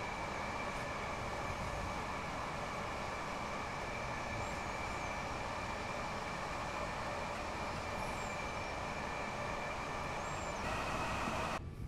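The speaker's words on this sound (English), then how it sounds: "And there's another train." A train passes in the Train Sim World game, heard as a steady, quiet rumble of rails and motors that holds evenly throughout, with no speech.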